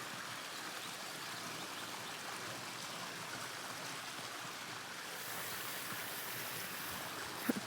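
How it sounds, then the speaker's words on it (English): Running water of a stream flowing through a sequoia forest, a soft continuous rushing and trickling wash heard alone, steady and fairly faint throughout. "I just love the sound of running water."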